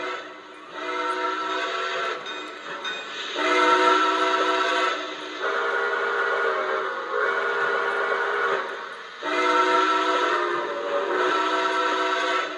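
Steam locomotive 765 chuffing steadily with repeated long whistle blasts, several loud chime-like calls separated by brief pauses, fairly close.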